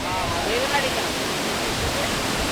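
Roaring water of Thoseghar waterfall in Satara, a steady broadband rush that fills the whole clip with constant even loudness, heard from a viewing area.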